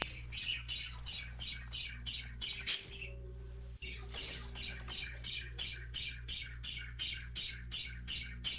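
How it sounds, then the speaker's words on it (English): Pet budgies chirp in a fast, regular run of bright, close tweets, with a brief louder squawk and short gap partway through, over low room hum. "Oh, they're just budgies."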